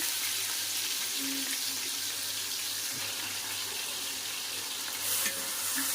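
Four large chopped onions hiss and sizzle steadily in a pan with green chillies for a fish curry, a close, even frying sound with no talk.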